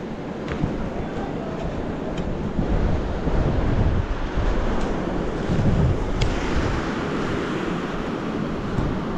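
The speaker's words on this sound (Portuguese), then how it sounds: "Vamos ali no mar aqui, para vocês verem aqui" Ocean waves wash onto a beach at Baía Formosa with a broad, steady roar, buffeted by strong wind on the microphone, loud and continuous without talk.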